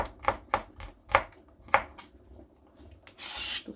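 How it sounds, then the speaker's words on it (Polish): Knife slicing garlic into thin slices on a cutting board, five or six distinct crisp chops spaced irregularly, then a brief scraping rustle at the end. "pokroję sobie um, czosnek w plastereczki"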